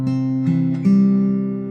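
Acoustic guitar fingerpicking a thumb, ring, index, middle pattern from a song's intro: a few close, sustained plucked notes ringing into one another over a low bass tone, heard alone.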